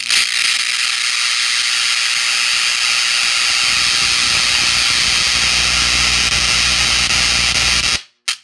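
Electrical discharge burns and puffs through a multilayer substrate, a loud steady crackling hiss with a rising low rumble, cutting off abruptly near the end.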